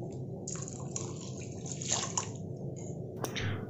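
Water poured from a cup into thick okra sambar in a cooking pot, a soft trickling and splashing pour lasting a few seconds, close and moderately quiet with no talking.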